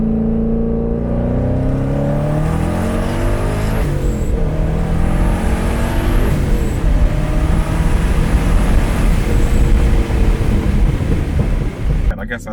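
A heavily modified BMW 335i with an N54 engine and a Precision 6766 single turbo drives hard, its engine note rising through a loud sustained pull with a deep rumbling roar, heard from close by.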